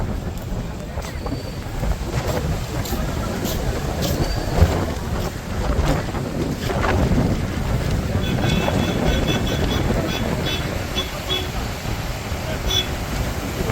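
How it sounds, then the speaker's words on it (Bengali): Strong wind blows along the seaside at Old Digha's Jagannath Ghat beach, buffeting the microphone with a continuous gusty roar while a person talks over it. "আর এই যে একদম বিভৎস পরিমাণে হাওয়া দিচ্ছে"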